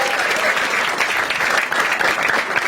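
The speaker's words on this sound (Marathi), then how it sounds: "एकदा टाळ्या वाजवा तिच्यासाठी सगळ्यांनी." Dense, steady applause from a standup comedy audience fills the room, loud and sustained throughout with a faint murmur of the crowd underneath.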